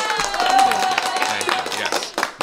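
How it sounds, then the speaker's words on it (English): Clapping and cheering from a podcast audience, dense and fairly loud throughout with scattered claps, and speech-like voices mixed in. "That deserves an applause."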